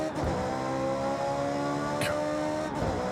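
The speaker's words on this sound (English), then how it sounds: "that distinctive V8 sound, you got to love it" A Ferrari 458 V8 engine in Forza Horizon 6, a continuous roar with a throaty, layered tone, holding steady throughout with faint brief swishing noises.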